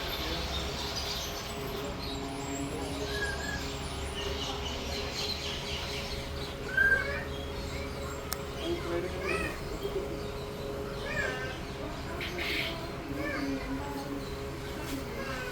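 Birds calling at a small farm in Saudi Arabia, with scattered chirps and faint cooing over a steady outdoor hum, mostly distant, while people talk throughout.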